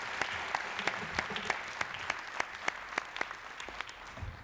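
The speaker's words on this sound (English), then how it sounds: "colleagues, we need some applause." Delegates at an Arctic Council ministerial meeting applaud in a large hall with sustained moderate clapping and a few sharper individual claps standing out, no talking over it.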